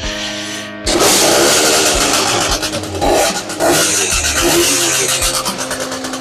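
An MBK Booster Spirit scooter's two-stroke engine fires up after a short lull and keeps running loud and close, its buzzing note rising and dipping with throttle blips throughout.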